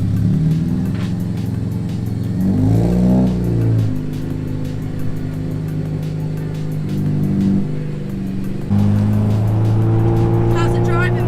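A car with newly installed 500HP drive shafts cruises on a test drive, its engine humming steadily with a couple of rises in revs and constant road and wind noise; voices talk briefly over the cabin drone.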